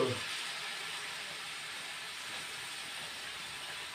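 Dried fish (shutki) dropped into a hot pan of ground chilli paste gives a steady, loud, even hiss of sizzling that holds without a break and with no voices.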